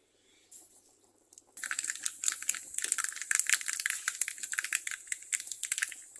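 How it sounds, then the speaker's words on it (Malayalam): Mustard seeds burst and splutter in hot oil in a pan for a prawn and mango curry, starting as a few faint crackles and then turning into a dense, steady rapid-fire popping. "കടുക് നന്നായിട്ട് പൊട്ടി വരുമ്പോൾ"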